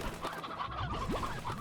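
Stony hens in the video game Slime Rancher give a quick run of soft, close clucks and short warbling calls over a faint background.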